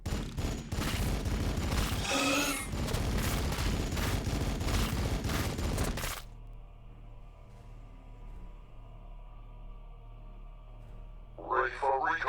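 Units in Warhammer 40,000 BattleSector fire in a dense, loud volley of rapid gunfire for about six seconds, with a radio-style voice over it, then quiet ambience and a brief voice at the end.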